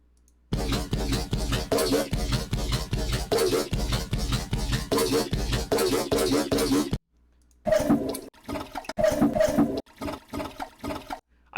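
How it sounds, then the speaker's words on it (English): A toilet flush sample is chopped in half and heavily processed into a bass inside Ableton. Loud rhythmic pulsing bursts come first, then a break, then a second choppier rushing section. "So there's a toilet flushing, and then that's the second part of it."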